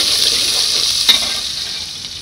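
Onions frying in a pan to brown, a steady close hiss of oil sizzling throughout with a single brief clink partway through; no voices.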